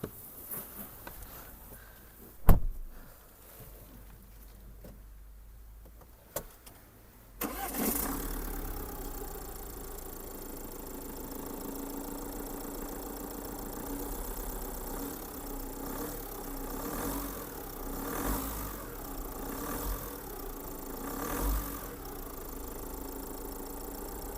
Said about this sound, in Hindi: यहाँ पर आपको किस तरह का इंजन नॉइज़ मिलता है स्टार्ट होने वक्त